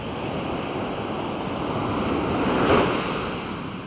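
Ocean surf rolls onto a surfing beach on the wild west coast of Vancouver Island, a continuous broad wash of waves with a swell peaking near the end.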